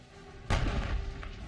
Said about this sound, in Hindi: बॉर्डर्स पर खड़े इजरायल के टैंक हमास पर गोलियां बरसा रहे हैं